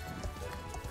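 Horse hooves galloping in the video game Star Stable Online, a steady rhythmic clip-clop of quick beats that stays fairly close and runs through the whole moment.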